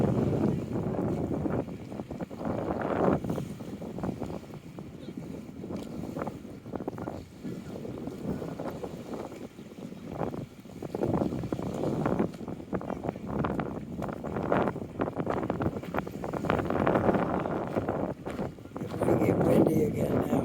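Steady gusting wind buffets the microphone across an open park by the water, a continuous low rumble with no voices rising clearly above it.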